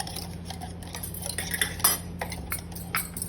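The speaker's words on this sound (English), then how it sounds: "I'm stirring well." A spoon stirring donut batter in a bowl, with quick irregular clinks and scrapes against the bowl's side, close and fairly light, over a steady low background hum, no talk.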